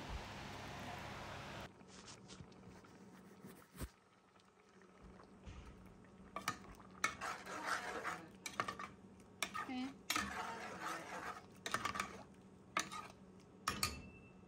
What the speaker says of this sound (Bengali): এখন একটু ভালোভাবে নাড়াচাড়া করে দিয়ে দেব।